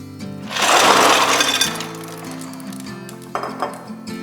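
About five pounds of ice tumbles into turkey brine in a cooler, a loud rattling crash of cubes lasting about a second, then a scattered clink as more pieces settle.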